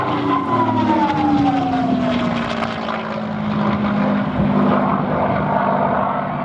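A Rolls-Royce-engined P-51D Mustang passes overhead at an air festival display, its propeller engine drone loud and steady with a falling pitch as it sweeps by, heard alone.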